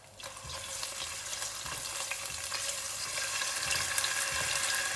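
Ginger garlic paste frying in a pan for Anglo-Indian pish pash, a close, bright, continuous sizzle that swells slightly over a few seconds, with faint stirring.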